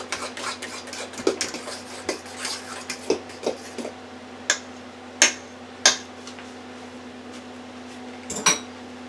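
Cake batter is mixed in a bowl, heard as sparse, irregular clinks and taps of a utensil against the bowl over a steady low background hum.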